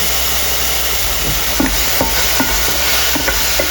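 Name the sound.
stir-frying basil in a pan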